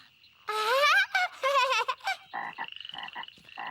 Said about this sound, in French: Et ça, c'est leur papa la grenouille.